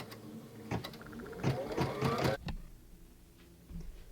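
A Brother VE2200 embroidery machine stitches a placement stitch in the hoop: a close, quick mechanical clatter with a rising whirr that builds for about a second, then cuts off into near silence with a few faint clicks.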